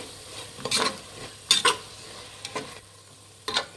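Rice bath masala with turmeric frying in a pan, with a steady low sizzle and several distinct scraping stirs of a spoon against the pan.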